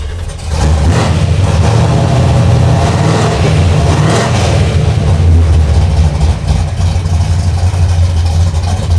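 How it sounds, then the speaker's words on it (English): A car engine fires up for the first time, cranking into a loud, steady rumbling idle with a couple of revs, close and alone without talk. "let's fire it up for the first time. Here we go. Ignition on, spinning."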